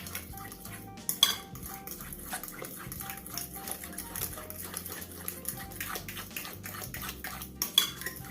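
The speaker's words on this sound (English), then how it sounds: "I'm just going to mix these up together." Ground nutmeg, cinnamon and mixed spice are stirred together in a bowl for banana fritters, giving continuous close scraping and clinking of a utensil against the dish with a few sharper knocks.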